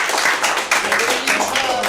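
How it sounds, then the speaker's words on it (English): Theatre audience applauding the improv judges at a Theatresports show, a dense, steady wash of clapping filling the whole moment with a few brief voices mixed in. "Let's give them one more round of applause."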